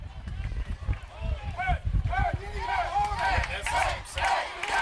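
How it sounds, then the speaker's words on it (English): Home fans cheer and shout from the stands at a high school football game between Liberty Center and Wauseon, a rising crowd roar after a hard hit, heard under steady play-by-play commentary. "Tiger fans coming alive with that hit cheer."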